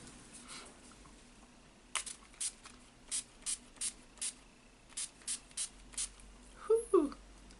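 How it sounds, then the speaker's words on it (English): A bottle of makeup setting spray mists onto a face in about ten short, sharp hissing bursts, spaced rhythmically and close up, followed by a brief exhaled breath. "scoop back to spray my face"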